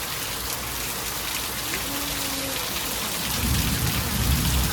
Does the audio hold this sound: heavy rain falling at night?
yes